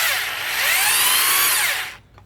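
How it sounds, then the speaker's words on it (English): A cheap Black & Decker 7-amp half-inch drill with straight-cut gears runs loud and close with a steady high whine that rises and falls slightly in pitch, then winds down and stops near the end. "Certainly is noisy. Straight cut gears. This is a cheap drill"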